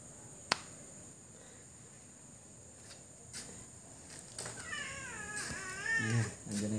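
A cat meows several times up close, its calls rising late in a short stretch, against a quiet room with an air-conditioner's compressor and electronics humming; a sharp click sounds early on.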